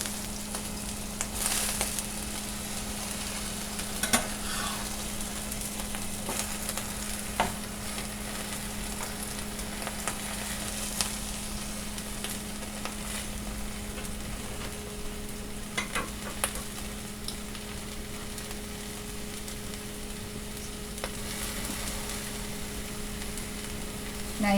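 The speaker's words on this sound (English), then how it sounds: "I think we have the griddle nicely heated" A Reuben sandwich sizzles steadily on a heated griddle cooktop, a continuous crackling fry with occasional sharper pops and scraping, moderately loud and without talk.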